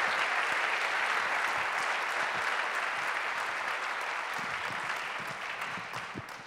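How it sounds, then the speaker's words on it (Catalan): An audience applauds for three guests at a Catalan event, a dense burst of clapping that stays even and gradually tapers off, with no talk over it. "Un aplaudiment per tots tres, si us plau"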